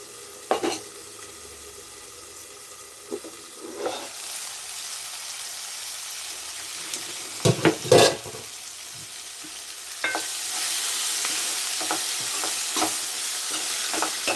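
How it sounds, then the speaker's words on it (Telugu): Chopped ridge gourd pieces frying in a hot pan for curry, a soft sizzle with scattered clatters and a louder burst as pieces are stirred, the frying swelling steadily toward the end. "దీంట్లో ఈ బీరకాయ ముక్కలను అయితే వేసేసుకుంటున్నాను"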